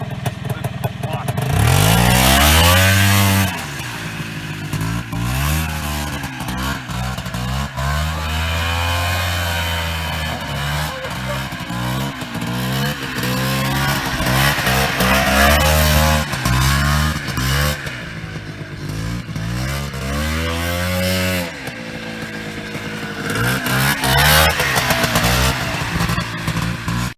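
Polaris Trailblazer ATV engine running and revving, rising and falling in pitch as it accelerates and eases off, loud and close, with some talking over it.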